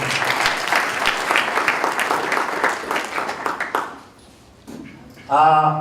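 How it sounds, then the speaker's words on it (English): Audience applause at a graduation party, a dense burst of clapping that runs loud for several seconds, then tapers off into a brief lull before a louder patch of cheering or voices at the end. "So you have to clap for them because they are great children of yours."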